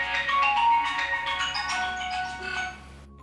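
A mobile phone rings with an incoming call indoors, a bright melodic ringtone with layered tonal notes playing steadily and fairly loud for about three seconds before cutting off.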